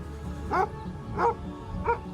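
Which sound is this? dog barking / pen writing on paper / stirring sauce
dog barking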